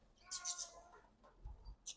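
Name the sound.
panicked pet birds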